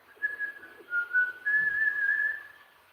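Someone whistles a short, wavering tune nearby, a few thin sustained notes with brief pauses against a quiet background.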